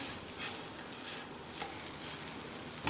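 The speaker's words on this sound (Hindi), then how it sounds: "इस तरह हम इनको अच्छी तरह से मिक्स कर लेते हैं।" Capsicum is stirred with peppery sauce in a hot pan, giving a soft continuous sizzle with light scraping strokes, faint and close.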